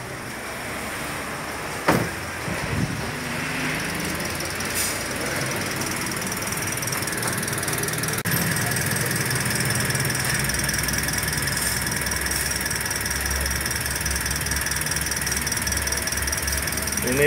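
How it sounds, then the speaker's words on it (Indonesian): A 2017 Daihatsu Sigra 1.2L fitted with an HHO fuel saver idles steadily after starting, with a sharp click and brief crank at the start, then a constant close-up engine hum with faint ticking. "Ini pasti mesinnya nanti akan terdengar lebih halus dari sebelumnya."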